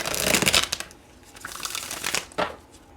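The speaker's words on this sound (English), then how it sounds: "Spirit says to shuffle one more." Tarot cards are shuffled close by in a quiet room, giving soft papery riffles and crinkling bursts at the start, then lighter intermittent flicks and a final sharp riff.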